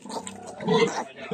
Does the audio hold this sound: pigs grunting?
yes